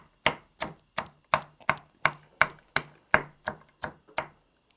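A knife rough chopping an onion on a board, about a dozen sharp, evenly spaced chops in a steady rhythm, close and clear with no talk.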